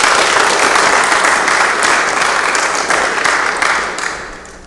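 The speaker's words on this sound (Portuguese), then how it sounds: "solicito a todos que saudemos o pavilhão nacional com uma salva de palmas" Loud, dense applause in a municipal council chamber saluting the national flag at the opening of a session, sustained clapping from the assembled attendees that gradually fades toward the end.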